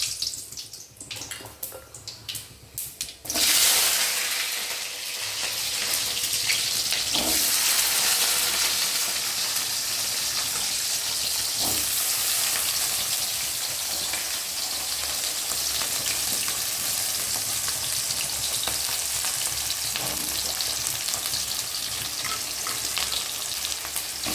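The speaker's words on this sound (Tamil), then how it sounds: "இப்போ வேகிட்டு தாளிச்சிக்கலாம் சாம்பார் தாளிச்சிக்கலாம் பெருங்காயம்" Hot oil sizzles loudly and steadily as spices and asafoetida are tempered for a sambar, flaring up after a quieter opening few seconds and then holding a dense, even crackle with faint stirring clinks.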